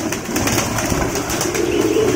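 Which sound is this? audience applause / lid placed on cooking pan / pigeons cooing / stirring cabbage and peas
pigeons cooing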